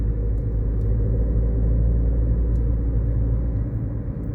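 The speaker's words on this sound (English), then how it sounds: "because the car is going by." A car rolls past on a city street, a steady low rumble holding level throughout with no voices.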